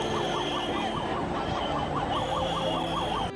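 An ambulance carrying children hurt in a train and bus collision sounds its siren, a loud, fast, regular rising-and-falling wail over road noise.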